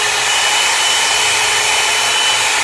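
A steady, close whir of a Mondial hot air brush dryer runs continuously with an even airy hiss and no pauses.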